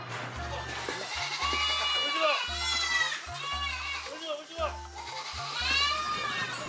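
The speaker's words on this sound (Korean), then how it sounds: "염소들이 잔뜩 몰려든다." A crowd of black goats bleat repeatedly as they press around a person inside a farm pen. Their cries overlap under steady talking and background music.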